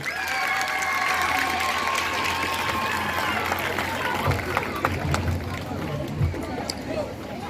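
Audience clapping at a school academic day ceremony at a lycée, a steady dense patter of many hands, fairly loud and continuous, with talking mixed in.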